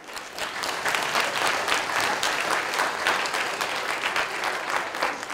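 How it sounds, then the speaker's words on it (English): Steady, sustained audience applause at a chemistry lecture, a dense wash of many hands clapping at even loudness throughout. "come on out, Jeff, you deserve a round of applause."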